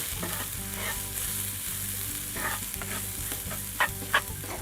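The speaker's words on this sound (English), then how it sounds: "I'm going to stir this up just to get it coated a little bit with the vegetables and the oil" White quinoa stirred with vegetables and oil in a hot pan, a steady close sizzle under a rhythmic scraping stir, with a couple of sharper clicks near the end.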